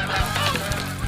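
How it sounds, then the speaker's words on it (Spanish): Geese honk loudly and close together, a brief burst of overlapping calls. "Benson, algo debe hacerse sobre esos gansos"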